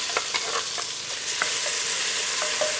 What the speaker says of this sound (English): Once the oil is nice and hot, we're going to add our diced onion and diced roasted hatch pepper.